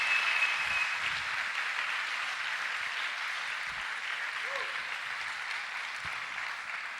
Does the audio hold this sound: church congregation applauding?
yes